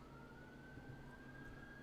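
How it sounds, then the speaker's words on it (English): An ambulance siren sounds faintly from outside, a steady rising tone held under a constant background hum and distant traffic noise. "Oh, of course, here come the ambulances."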